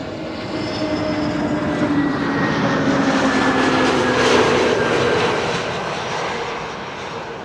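An Etihad Airbus A321 airliner at Amsterdam Schiphol, its jet engines producing a continuous loud roar with a thin whine on top, building to a peak near the middle and easing slightly after.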